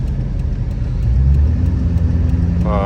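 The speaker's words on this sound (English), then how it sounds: "full throttle pull real quick." An LB7 Duramax diesel truck fitted with a CTS3 tuner accelerates at full throttle, its engine a loud, deep, steady rumble that swells slightly as the pull continues, heard close up from inside the cab.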